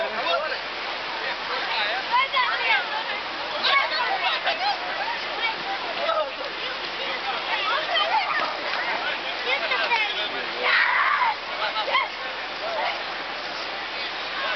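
Water thrown and splashing during a soapy football game in Guarapari, a continuous wash of spray and sloshing under constant loud shouting and chatter from players and onlookers.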